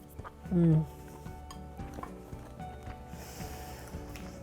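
Cutlery scraping and clinking against a dish while eating a chicken harissa bake, light metallic taps scattered across the clip, with a short hummed vocal sound near the start.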